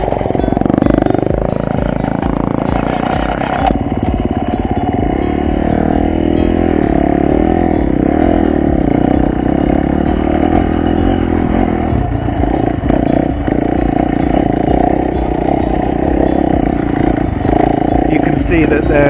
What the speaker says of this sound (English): Gwangne, he's on the Husky 350, the e-bike, and then we've got Yonggi Hyung on the KTM 250